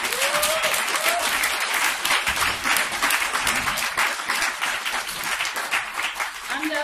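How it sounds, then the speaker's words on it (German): Enthusiastic applause from a crowd at a women's strike assembly in Berlin, dense sustained clapping throughout, loud and close, with no break. "jetzt schon mal einen riesigen Applaus"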